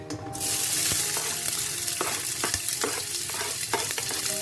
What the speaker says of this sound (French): j'ai ma tomate au feu. Je rajoute mes oignons